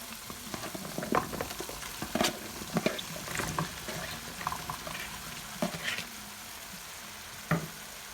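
Washed cauliflower goes into a hot cooking base for gobi ki sabji, giving a low sizzle with scattered scraping and clattering stir sounds, no voice.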